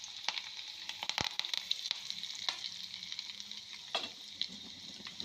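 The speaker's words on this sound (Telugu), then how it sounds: "ముందుగా దంచి పెట్టుకున్న వెల్లుల్లి వెల్లుల్లి రెబ్బల పేస్టు వేసుకోవాలి తర్వాత లైట్గా కరివేపాకు వేసుకున్నాను" Pounded garlic paste and curry leaves frying in hot oil for a Telangana raw mango pickle, a steady close sizzle broken by scattered crackles and stirring clatter, with no talk.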